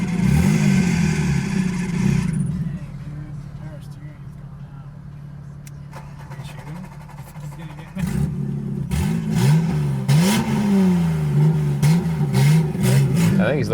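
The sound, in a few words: BMW 325 inline-6 engine revving, secondary cats deleted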